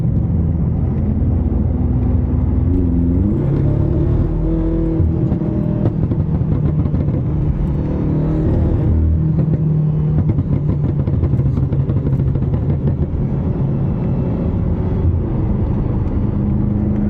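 A BMW engine revs loud and close, its low droning rumble swelling and easing through repeated throttle blips with a slight lag before each surge, continuous and alone throughout.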